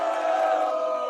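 Crowd cheering sound effect played from a soundboard, a steady wash of many voices shouting and cheering for about a second, loud and continuous with no talk over it.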